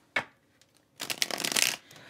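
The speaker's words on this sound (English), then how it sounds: "I'm going to shuffle one more time, see what comes out." A deck of tarot or oracle cards being shuffled in a reading: a single sharp riffle snap, then a dense burst of flicking and rustling that lasts under a second before dying away, close and with no talk.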